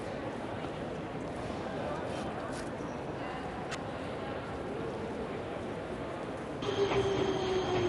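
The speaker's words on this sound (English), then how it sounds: "train arrives once every 10 seconds" A train rumbles steadily along the rails with a constant roar, and a thin metallic squeal of wheels rises near the end.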